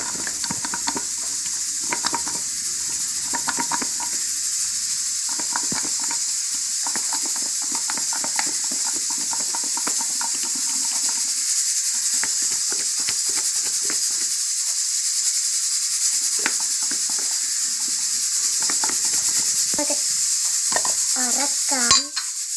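Food being stirred and mixed in a pan while packing a tiffin box, rapid scraping and tapping strokes over a constant background hiss, close by, ending in a few sharper clatters.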